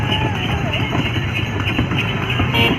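Horse hooves clip-clop steadily as a horse cart carries riders along a road, rhythmic and close, with people talking over the continuous rolling and street noise.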